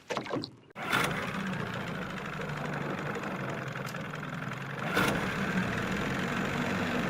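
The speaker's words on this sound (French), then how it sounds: "j'ai mis le moteur en route" A fishing boat's motor starts with a brief burst and then settles into a steady, continuous running drone close by, with a small surge partway through.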